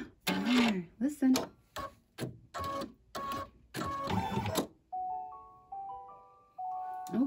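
A home embroidery machine stitches a ladybug design, its rapid needle strokes pausing between short bursts and then settling into a steady run with a faint tonal whir. A person speaks over the early part.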